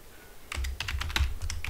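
Quick, close keystrokes tap out a command on a computer keyboard in a short, uneven burst after a brief quiet start.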